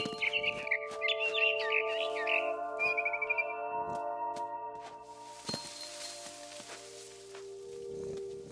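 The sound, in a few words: barn swallow chirping, from the video game What Remains of Edith Finch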